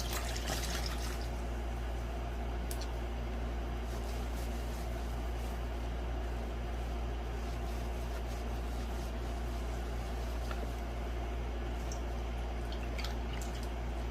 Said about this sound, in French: Cette fois-ci, tu vas rincer avec l'eau froide.